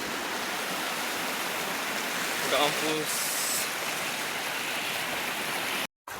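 A small mountain river stream in a deserted valley flows with a steady, loud broadband rush filling the whole clip, and someone briefly speaks over it.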